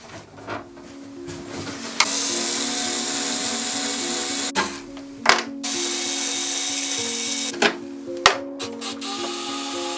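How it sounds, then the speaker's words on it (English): Screws being backed out of a painted mid-century modern furniture piece, with a steady mechanical whir running through most of the clip and several sharp clicks and knocks of the driver against the workpiece; no talking. "It looks like there's a screw there, so I need to unscrew those now."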